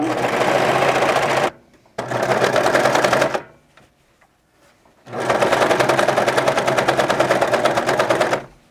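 A sewing machine stitches a cape brim in fast, loud, close-up mechanical bursts, running about a second and a half, then another second and a half after a short pause. Near-silence follows before a longer three-second run, with no talking.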